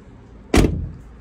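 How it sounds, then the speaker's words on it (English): Passenger door of a VW campervan with a Thistle Rose conversion, opening in a single loud mechanical clunk that rattles and fades over a fraction of a second, close by with no talk. "but you do need to have the door open"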